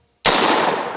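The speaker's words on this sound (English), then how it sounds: "This is my Kel-Tec SU-16, and I'll be loaded up with some Underwood ammo, 223, 62 grain controlled chaos" A Kel-Tec SU-16 rifle loaded with Underwood .223 62-grain ammunition fires a single loud, close shot with a sharp onset and a long ringing decay.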